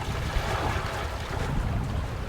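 A sailboat runs downwind at about 120 degrees through the Swedish skerries, wrapped in a steady wash of wind and water with low rumbling buffets and no voices.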